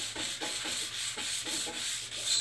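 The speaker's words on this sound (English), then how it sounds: "we've got our 400 grits, wet or dry sandpaper." A car fender is wet sanded by hand with 400 grit wet-or-dry sandpaper, giving steady rhythmic rasping strokes, about five back-and-forth passes, close and fairly loud with no talking.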